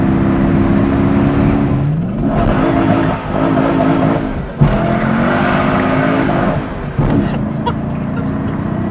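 Lexus IS300 swapped with a 3UZ V8, engine and exhaust with a possible exhaust leak, loud and close as revs rise and fall through several pulls, with brief tire noise between them.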